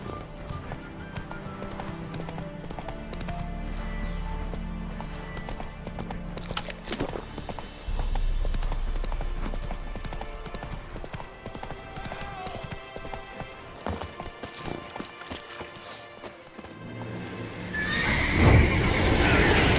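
Horse hooves clip-clopping at a gallop with repeated neighs and whinnies in The Witcher 3, carried over game music and ambience throughout, with a louder burst of action near the end.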